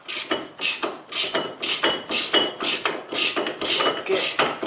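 A wrench loosens the lower front brake caliper bolt on a 2002–2010 Toyota Corolla, giving a loud, fast series of metallic ratcheting clicks in a regular rhythm.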